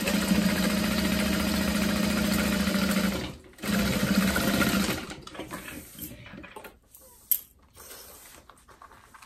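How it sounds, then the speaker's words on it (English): A sewing machine stitches a seam on a tote bag, running in a loud steady whir, pausing briefly, running again, then stopping, with faint handling sounds and a small click afterward. "And then we'll flip this up and top stitch through the seam allowance."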